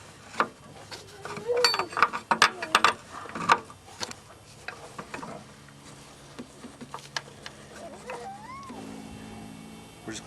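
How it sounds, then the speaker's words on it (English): Wrenches clicking and clanking against a radiator line fitting on a 1996-98 Chevy C/K pickup, a cluster of sharp metallic taps and ratchet-like clicks up close, thinning out toward the end. "we're gonna have to hold the fitting with one wrench"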